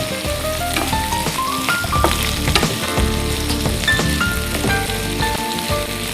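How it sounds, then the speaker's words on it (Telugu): Boiled potato and carrot pieces frying in a pan, a loud dense continuous sizzle that crackles steadily throughout, close up and with no one speaking. "సో ఆల్రెడీ నేను పొటాటో ఇంకా క్యారెట్ ఇవన్నీ ఉడికించాను కాబట్టి తొందరగా ఫ్రై అయిపోతుంది."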